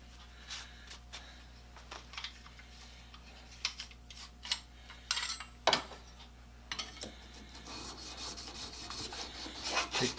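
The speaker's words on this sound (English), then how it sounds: "Take the burr off the back and flatten it a little bit more with a 1000 grit stone." Steel plane blade from a Defiance No. 3 plane rubbed on a 1000 grit water stone, a soft wet rasping in uneven strokes, close and fairly quiet, growing busier toward the end.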